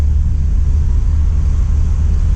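A 73-year-old Plymouth car being driven with a manual stick shift, its engine giving a steady, loud low rumble that holds evenly throughout with no talk over it.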